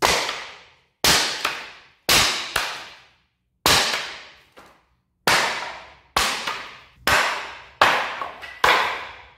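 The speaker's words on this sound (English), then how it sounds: "we might as well knock out the third rail here as well." A claw hammer knocks the third rail out of a wooden pallet being taken apart, with sharp, loud strikes that come in pairs and short bursts, separated by brief pauses, each one ringing off quickly.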